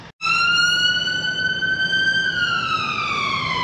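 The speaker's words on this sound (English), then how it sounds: "the ambulance were going up Tarbert Road" Ambulance siren passing along a town street in Blackpool, a loud continuous wail that holds steady then drops in pitch as the vehicle goes by, close and alone.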